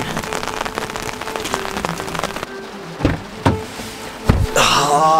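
Heavy rain pours in Nashville, a dense, loud steady patter that drops away partway through, followed by a few sharp thuds and then a broad rushing wash.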